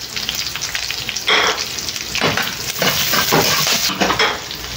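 Onion sautés in a pan of golden-browned garlic for ginisang sitaw, giving a steady close sizzle broken by bursts of stirring and scraping.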